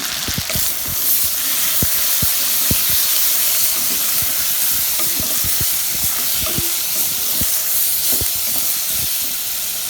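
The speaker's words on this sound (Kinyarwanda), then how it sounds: "Hanyuma hano bigeze turashyiramo inyanya zacu." Tomatoes hit a hot pan with chicken and fry, giving a loud steady sizzle and hiss with scattered pops and stirring clatter, no voices.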